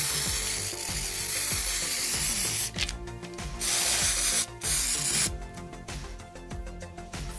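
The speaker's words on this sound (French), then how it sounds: "Et puis on vaporise à 10-15 cm de hauteur." Several sustained hissing blasts come from an Essence nail polish spray aimed at a nail from about 10-15 cm away. The hissing is loud and close, in long bursts separated by short breaks.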